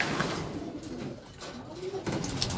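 Pigeons coo softly and repeatedly, a low burbling murmur that rises and falls over steady background noise.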